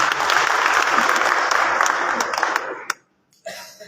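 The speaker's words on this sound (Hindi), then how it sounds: "अब भाई साहब ताली ही बचती है," An audience at a kavi sammelan poetry recital in Morena applauds in a dense burst of clapping lasting nearly three seconds. It cuts off sharply into a brief silence before faint sounds resume.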